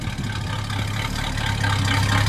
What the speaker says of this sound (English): The exhaust has mufflers on it. It's certainly not loud, but you can tell it's a 60s V8 sound.